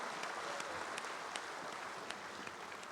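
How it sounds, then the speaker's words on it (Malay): An audience in a political party assembly hall applauding, a dense steady patter of many hands clapping at moderate distance, with no talk over it. "kita berikan tepukan untuk para pemerhati yang berada dalam Dewan dan luar Dewan"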